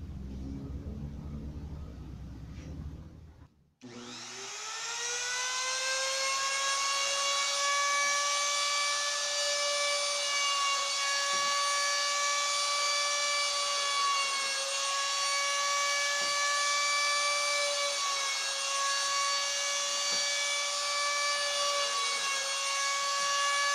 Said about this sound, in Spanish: Ahora voy a redondear todos los bordes que no van pegados a la pared de mi pieza de madera.